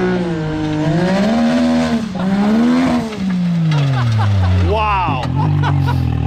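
A 400HP Can-Am X3 on saw-blade wheels revs hard for a wheelie, its engine pitch rising and falling in loud sweeping surges, with excited voices shouting over it.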